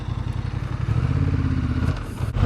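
A Honda Hornet 750 motorcycle ridden in sport mode gives a close, continuous throbbing engine rumble with a rough pulsing texture, steady in level throughout and without speech.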